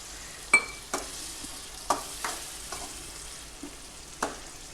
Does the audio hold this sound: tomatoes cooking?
yes